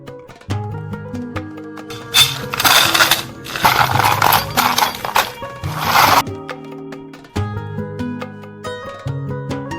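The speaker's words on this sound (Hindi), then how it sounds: "आपण एई आवाज रु जानि पारुथिबे एटा केते क्रिस्पी होईछि।" Crispy fried jackfruit chips crunch loudly in repeated bites over a few seconds, with quieter moments between the bursts of crunching.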